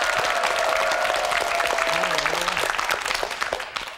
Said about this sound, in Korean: 자, 이렇게 해서 박수 한번 보내주세요